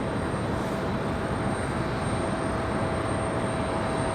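A distant Southwest airliner taxis toward the runway for departure at Raleigh-Durham, a steady low jet rumble with a faint whine, even and unchanging, with no voices.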